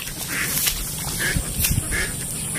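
A duck quacking near its pen and pasture, a few short nasal calls spaced apart at moderate distance over outdoor background noise.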